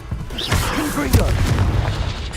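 A fiery Confringo blast spell goes off in the video game Hogwarts Legacy, a deep, booming burst that rolls under a voice casting the spell and other game sounds.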